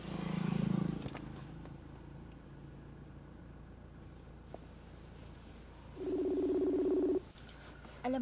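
Telephone tones sound on a handset while a call is placed in a Filipino drama scene: a short steady tone near the start, then a longer, louder one about six seconds in, with a quiet room between them.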